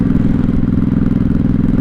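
A 1983 Honda Shadow VT750C cruiser's V-twin engine runs loud and close at low revs, a steady, throbbing, rhythmic rumble with fast, even pulses and no speech.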